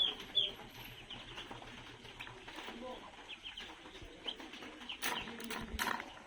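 Young ducklings, smaller ones kept apart from bigger ones, peep in a busy, continuous chorus with scattered rustling and flapping. Voices can be heard faintly nearby.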